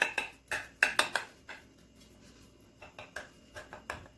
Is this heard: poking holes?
yes